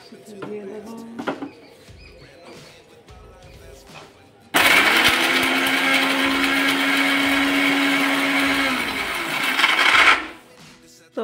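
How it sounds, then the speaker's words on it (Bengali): A kitchen mixer grinder whirs loudly while blending poppy seeds and cashews. The steady high whine starts suddenly, runs for about six seconds and then stops, with faint clinks and soft voices before and after. "মিক্সিতে দিয়ে দেবো।"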